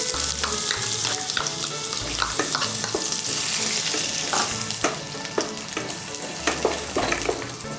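Half of a large chopped onion frying in a pan, with sizzling oil and frequent clattering stirring strokes close up, loud and continuous with no speech.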